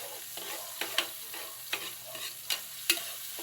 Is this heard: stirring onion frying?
yes